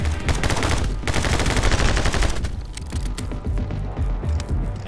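Dense, loud gunfire in My Friend Pedro, rapid shots stacking into a continuous barrage that runs the whole time with barely a break and no talking.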